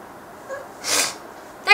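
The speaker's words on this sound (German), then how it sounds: "Und jetzt muss ich niesen." One short, sharp human sneeze bursts out close to the microphone after a faint breath, followed by a quick sniff.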